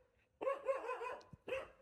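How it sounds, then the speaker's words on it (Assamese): A dog barks while giving chase on a road at night, a rapid run of loud, close barks followed by a short pause and one more bark. "কুকুৰে খেদি আছে গাইজ, বেয়া কুকুৰে খেদিছেচোন।"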